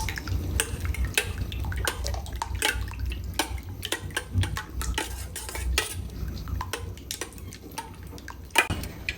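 Eggs seasoned with salt, cumin and turmeric are beaten in a bowl, making rapid, steady clinks and taps of utensil against the bowl, close and continuous for several seconds.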